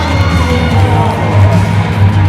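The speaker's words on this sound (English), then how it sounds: "The crowd going crazy." A crowd at an MMA fight cheers loudly, yelling and whooping in a dense, continuous roar that swells near the end.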